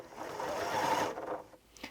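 Janome Memory Craft 6700P sewing machine stitching striped fabric, a soft, steady whirring hum close by that runs for about a second before fading out.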